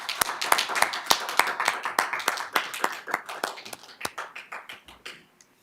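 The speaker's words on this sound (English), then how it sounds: "How about a round of applause for Christy?" A small group at a school board meeting gives a round of applause, with distinct individual claps at first that thin out and fade over about five seconds.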